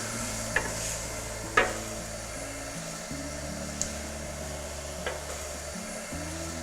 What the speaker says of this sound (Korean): 손질한 파프리카를 넣고 3분 정도 끓여주겠습니다.